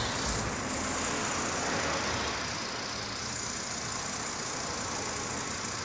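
A motorcycle engine in the survival video game Last Day Rules runs steadily as a continuous, dense drone, loud and unchanging throughout with no talk.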